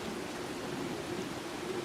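Steady rain falls in a video game, an even, unbroken hiss of moderate loudness with no voices over it.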